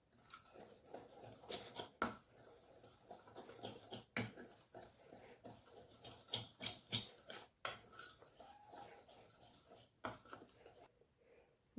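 Wheat flour dough being mixed with a little oil in a bowl for eggless biscuits, heard as close, continuous scraping and clinking of a utensil against the bowl with steady stirring, no talk.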